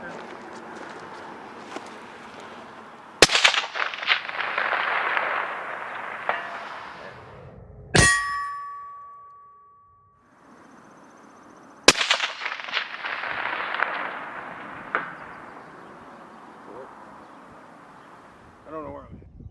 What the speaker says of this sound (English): we got we're gonna shoot some almost a half mile.